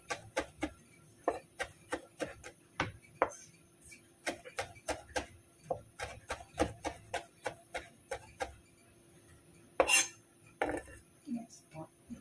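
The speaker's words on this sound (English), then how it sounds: "chop the leaves, roughly chop" Kitchen knife roughly chopping rosemary leaves for wine-braised pork ribs, a close series of sharp, distinct taps on a cutting board in an uneven rhythm, with one brighter clatter near the end, no talk.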